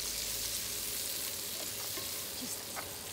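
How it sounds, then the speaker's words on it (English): Green leaves wilting in olive oil in a frying pan make a quiet, continuous sizzle, with a few soft stirring taps toward the end. "all I'm going to do is just wilt off these green leaves"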